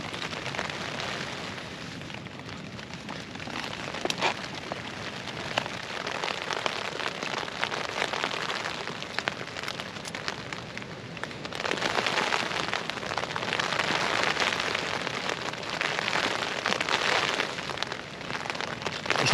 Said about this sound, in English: Listen to that lovely rain.